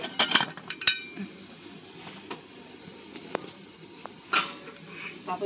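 A lid goes onto a pot of mutton momos set up for steaming, giving a few sharp metallic clinks and clatters near the start and again around the four-second mark over a quiet kitchen background.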